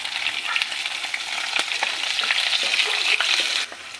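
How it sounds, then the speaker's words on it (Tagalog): Garlic sizzles steadily in a hot pan for a Filipino buro dish, a dense crackling fry with occasional scrape or clink from stirring, close and fairly loud before easing off at the end; no talking. "unahin po natin yung bawang"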